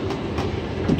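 A special train running on rails gives a continuous rumbling roll with faint rhythmic clatter, heard from inside at a moderate, even loudness.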